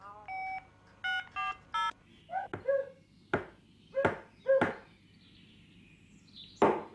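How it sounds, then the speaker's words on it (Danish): A cartoon telephone being dialed: three short tonal beeps of keypad dialing, then a string of clipped clicks and bright ticks of the dial, ending in a louder sharp click, with no voices. "Jeg ringer til Bob med det samme."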